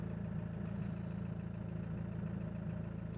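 Jeep Wrangler 2.8 diesel engine idling after starting following a year parked, a steady low rumbling drone with even pulsing, moderately faint and alone.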